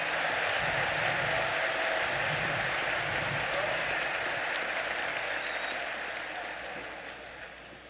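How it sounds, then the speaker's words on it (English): Broad, dense applause from a large audience at a military graduation ceremony honouring the class of 1969, loud and sustained before gradually fading near the end, with no speech over it. "how about a round of applause for the class of 1969"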